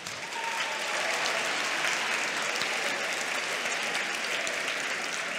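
A school audience at a patron-day celebration applauds students, building quickly into steady, dense clapping that holds evenly to the end.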